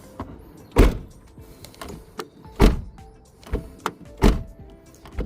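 Several solid thuds of a Mercedes 190 car door and lock shutting, each a deep heavy clunk, repeated about four times at steady intervals, close and loud with no talking.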